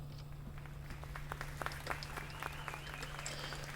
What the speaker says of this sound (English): I applaud the band. Eventually some other patrons join in.